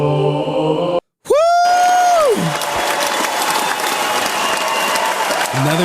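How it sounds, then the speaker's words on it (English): Loud crowd applause and cheering on a live stream show, starting after a brief cut of silence and a falling electronic tone, then holding as a thick, even roar of clapping. "Clap it up for y'all."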